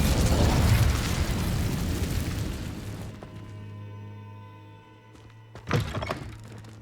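Incendio fire spell cast in Hogwarts Legacy: a whooshing fiery burst with a thunking impact up front that decays into quieter game ambience and a low hum, followed by a second sharp pop later.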